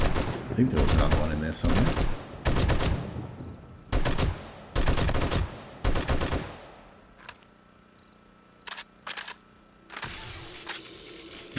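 Automatic gunfire rips through 7 Days to Die as a horde of zombies is mowed down, with long loud bursts repeating, then sparser single shots and short clatters later; a voice speaks briefly in between.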